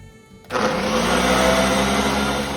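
A blender starts up suddenly and then runs steadily, a loud, close whirring drone as it mixes green bean dip with milk.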